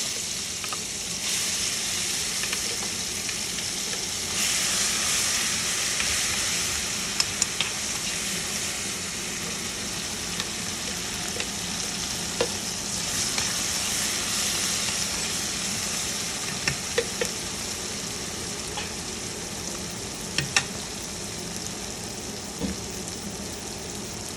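Bitter gourd seeds roast in a dry pan with a steady, even hiss and faint crackle throughout, broken by a few light spoon clicks, moderately quiet and with no voices.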